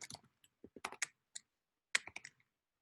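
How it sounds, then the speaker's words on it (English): Someone types code on a computer keyboard, producing close, crisp key clicks in a few short, uneven bursts separated by silent pauses. "So we're going to type observe event."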